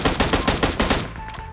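Rapid automatic gunfire in PUBG Mobile, a loud close burst of about seven evenly spaced shots with a faint ringing tone as it cuts off.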